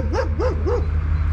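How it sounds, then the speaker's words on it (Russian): Dogs barking at people beside a young pet bear: three quick, evenly spaced barks over a steady low hum, with no talk. "собаки на меня. На нас лают."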